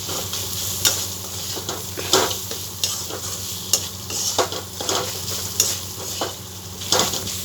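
Snail curry sizzles loudly in a pan with Kashmiri chili, stirred in a steady rhythm of spatula scrapes over the constant frying hiss.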